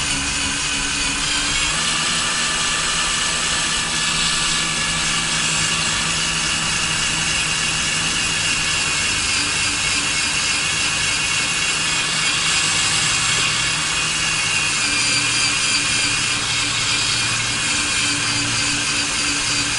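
Drill boring into the steel frame of a 2019 Ford F250 Super Duty truck, a continuous loud grinding whine that holds steady for the whole stretch with slight shifts in pitch, no talking.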